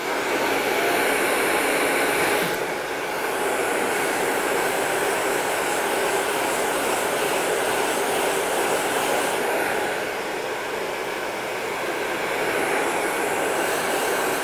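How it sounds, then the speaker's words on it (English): Blow dryer running continuously at close range while hair is styled into an updo, a loud steady roaring hiss with brief shifts in tone as the airflow moves. "blow dryer"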